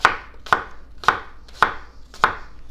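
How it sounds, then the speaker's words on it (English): A knife cutting through an apple on a board for sangria, five sharp, evenly spaced chops about half a second apart, close and clear with quiet gaps and no talk. "I'm going to core out and then just cut it."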